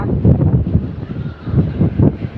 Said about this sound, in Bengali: এখনো বৃষ্টি পড়তেছে, বাতাসে দেখেন কি অবস্থা।